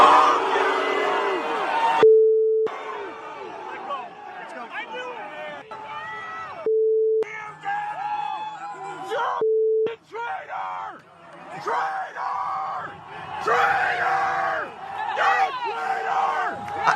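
Philadelphia Eagles fans screaming at Santa Claus, a roaring stadium crowd of shouts and yells in loud bursts, cut up by repeated electronic beep tones and brief silent gaps.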